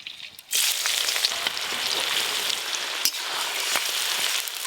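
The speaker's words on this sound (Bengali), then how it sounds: "তেল গরম হয়ে গেছে, অর্ধেক পেঁয়াজ দিয়ে দেবো।" Onions dropped into hot oil for mutton biryani burst into a loud, steady sizzle that starts abruptly after a quiet moment and keeps crackling close by, with occasional sharper pops.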